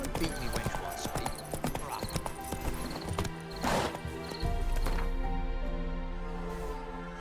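Roach the horse gallops in The Witcher 3: Wild Hunt, rapid hoofbeats under game music and a spoken line, with a rushing burst midway and a sustained musical swell at the end.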